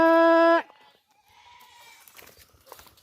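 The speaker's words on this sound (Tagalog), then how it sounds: "Ayan, nandito yung aking mga alagang kambing." Pet goats at a farm goat house give one loud, close bleat that cuts off quickly, followed by quiet farmyard background with faint rustling.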